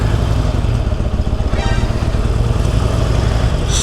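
A Harley-Davidson Forty-Eight with a stock exhaust runs its V-twin engine on the road, a loud, close, steady rumbling throb with wind noise and no talking over it.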